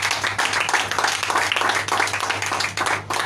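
A church congregation clapping and acclaiming the Lord, with dense rhythmic applause and cheering voices filling the room throughout.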